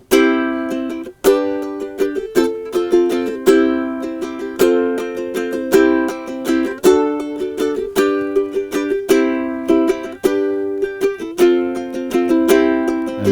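A ukulele strums the chords of a song in a steady waltz-like rhythm, bright and close, with no voice over it.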